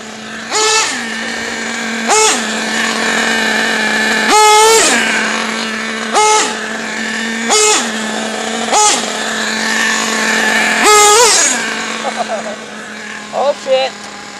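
A modified motorbike engine idles with a low steady drone, then revs sharply in several loud bursts, climbing and dropping again, with people talking nearby between the revs.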